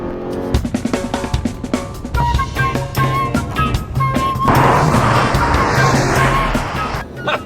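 A Subaru Outback and a VW Alltrack accelerate hard side by side in a drag race, engine roar climbing through gear changes with rising tones, loud and close from inside the car, ending in wind and road noise.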